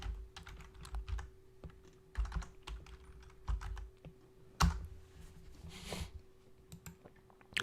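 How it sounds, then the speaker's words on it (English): Typing on a computer keyboard comes through as quick clusters of close, crisp key clicks with short pauses between bursts, fairly quiet over a faint steady hum. "I'll just type it in."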